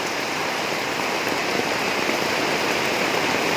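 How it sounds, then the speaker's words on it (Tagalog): Heavy rain pours down steadily in a dense, constant hiss with no pauses, filling the whole stretch at an even, loud level. "Ulan, guys, ulan."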